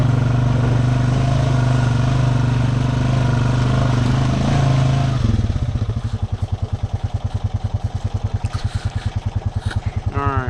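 A 420 vehicle's engine revving loudly while driving through a creek, a steady close roar that shifts about halfway into a rapid, regular chugging pulse as the throttle changes.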